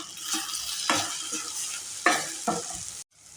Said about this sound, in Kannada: ಅರ್ಧ ಸ್ಪೂನ್ ಆಗಷ್ಟು ಗರಂ ಮಸಾಲ ಹಾಕ್ತಾಯಿದ್ದೀನಿ.